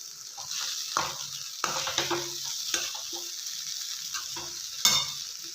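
Poha frying in hot oil in a pan with peanut powder, stirred steadily: a continuous close sizzle broken by repeated scraping strokes of a spoon against the pan bottom, with no voices.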